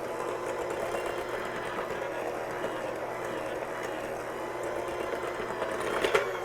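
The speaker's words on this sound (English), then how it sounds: "It's just a little bit easier for me if I use my electric hand mixer." An electric hand mixer whirring steadily through butterscotch brownie batter, a continuous motor drone with a slight rise near the end, heard alone without talk.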